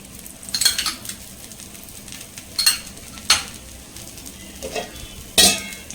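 Dosa frying on a hot pan with oil poured around it, a soft steady sizzle broken by several sharp metallic scrapes and clinks of a utensil against the pan.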